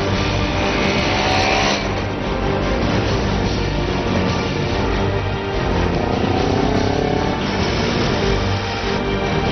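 KTM Duke 200 motorcycle with a liquid-cooled, fuel-injected four-valve overhead-cam single, heard riding: a loud, steady engine drone that barely changes throughout, close and alone.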